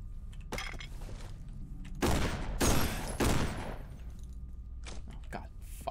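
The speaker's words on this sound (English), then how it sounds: "I'm gonna actually shoot him with this." Gunfire in the horror game Condemned: Criminal Origins, with a short volley of sharp blasts and thuds in the middle amid game ambience, and someone talking around the shots.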